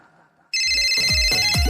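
A telephone ringtone starts abruptly and rings loudly and steadily in repeated electronic bursts, with a low hum beneath it before the ring begins.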